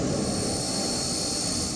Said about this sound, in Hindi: और मिराज जैसे फाइटर एयरक्राफ्ट इस एक्सरसाइज का हिस्सा बने।